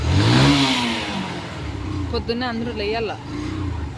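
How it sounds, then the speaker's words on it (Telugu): A motorbike engine starts and revs nearby on an early morning outing, with a low rumble that swells at the start and then settles, while someone talks over it. "మా బావ బైక్ ఎలా స్టార్ట్ చేస్తాడు"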